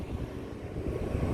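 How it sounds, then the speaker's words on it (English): The gas engine of an agricultural biogas plant runs with a steady broadband roar and rumble heard from outside its housing, constant and moderately loud, with no talk during it. "I'm hearing a lot of noise. So I guess that's the engine inside there."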